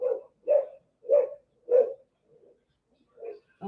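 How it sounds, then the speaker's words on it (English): Several dogs barking indoors at home, including a puppy: four loud, evenly spaced barks, then a fainter one and a final bark cut off at the end, with no talking. "Oh, my dogs are going off."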